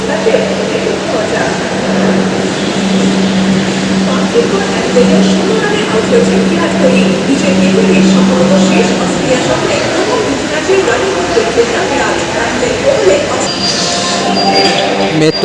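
A Kolkata metro train rumbles steadily along with a low mechanical hum, wheel noise and a faint high squeal near the end; voices are audible underneath.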